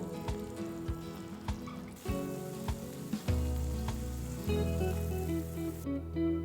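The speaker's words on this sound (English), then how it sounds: "Stir and cook for 2 minutes" Chicken broth and wheat flour simmer and sizzle in a pan while being stirred, a steady bubbling hiss with soft scraping as the spoon moves, close and fairly quiet, no voices.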